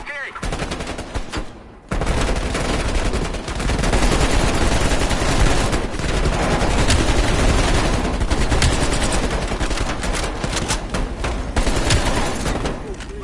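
Relentless automatic gunfire from Call of Duty Black Ops Cold War, loud and dense, rattling almost without pause for the whole stretch after a brief lull near the start, with voices talking over it.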